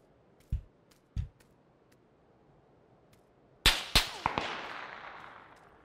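Gunshots in PUBG, two isolated low thuds early on, then a cluster of sharp, loud cracks ringing out with echoing tails, fairly close.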